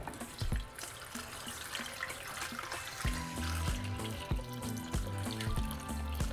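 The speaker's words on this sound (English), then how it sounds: "And now we're just going to cover them with water." Steady splashing water pours into a pot over tomatoes, with clinking and knocking of kitchen items over the flow.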